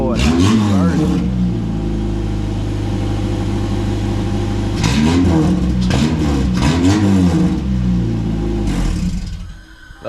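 A 1990 EF hatch with a B-series engine and big tube drag headers revs hard in loud bursts, the engine note rising and falling twice over a steady idle, close by, with voices in the background.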